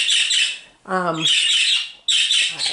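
Pet birds in a sick-bay rehab aviary: one loud, harsh squawk stands out briefly against a constant bright, hissing background of bird chatter and aviary noise.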